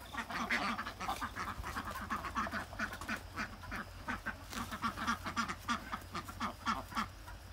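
Laying ducks at a rural garden home quacking in a busy, overlapping chorus of rapid nasal calls, fairly near and continuous, with no talking.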